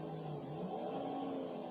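A car engine in GTA 5 drones steadily at moderate level with a slight revving rise, heard close and continuous with no speech over it.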